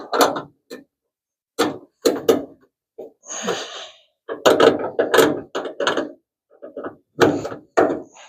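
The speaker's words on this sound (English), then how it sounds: "Let's take our 12 and our 14 millimeter and tighten that up" Bolts on a Plymouth Duster's trunk lid gas lift struts are tightened with 12 and 14 millimeter wrenches, giving short, sharp metallic clicks and clanks in irregular bursts separated by silence.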